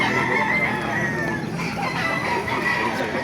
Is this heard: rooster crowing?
yes